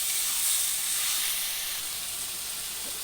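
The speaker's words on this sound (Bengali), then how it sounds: "দেখো এখন মশলাটা দিয়ে দিচ্ছি। মশলাটা একটু কষিয়ে নিই," Spices fry in a pan for chicken curry, giving a steady, close, hissing sizzle that softens slightly toward the end, with no voices.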